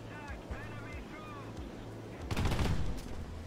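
A burst of automatic gunfire rings out in a video game, a loud rapid volley following a quieter stretch with engine-like hum and a voice talking.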